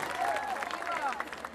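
Applause for a performer doing mimicry at a picnic show, a short burst of audience clapping with voices chattering over it.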